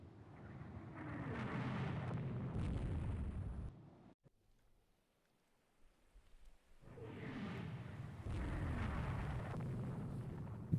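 Naval gunfire in the video game Rule the Waves 3, a 1948 war between Japan and France, comes as two long, loud roaring barrages of blasts split by a brief quiet lull.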